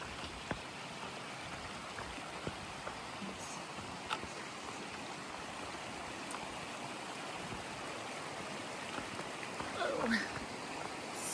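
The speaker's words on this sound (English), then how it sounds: "Actual flowing creek again." A creek flows steadily nearby, a continuous broad rushing murmur with a few faint clicks and a brief rustle near the end.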